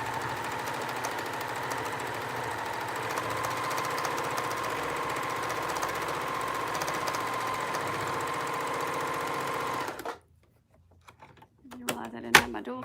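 A sewing machine runs steadily, stitching close to the edge of a scrap buster taggie blanket, then stops abruptly and a few light clicks and taps follow.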